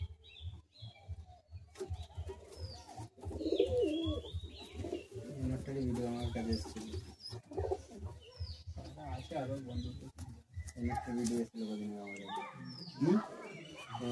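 Madrasi pigeons coo steadily in dense, overlapping rounds nearby, mixed with chirps and a short flutter of wings, while a voice talks over them.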